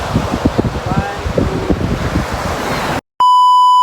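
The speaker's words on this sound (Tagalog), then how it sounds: "Ay, lakas ng alon ngayon, Jude." Strong ocean waves rush and crash, surf roaring steadily for about three seconds at a beach, then cuts to a brief silence followed by a steady electronic beep.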